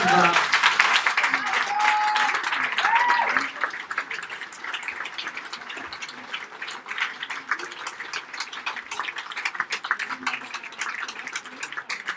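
Applause from an audience at the Prix Filigranes 2020 award ceremony for the winner, dense clapping that starts loud and gradually thins out, with some voices and a brief tone near the start.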